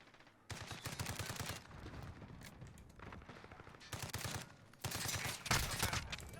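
Rapid bursts of Glock pistol fire in a shooter video game, three or four clusters of fast, closely spaced shots with brief pauses between them, loud and dense, with no one talking over them.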